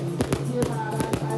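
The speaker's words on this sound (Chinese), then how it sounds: "看到炮声甲众人欢呼的声音" Firecrackers crack in quick bursts at a temple procession welcoming the deity in Budai, Chiayi, with several loud sharp pops over a crowd's cheering and a background hum.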